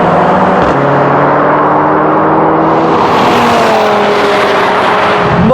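Cars drag racing side by side, among them an Audi RS 3, Mercedes A45 AMG, Honda Civic Type R, VW Golf R and Ford Focus RS, engines roaring loud and close as they accelerate hard, with a brief shift midway.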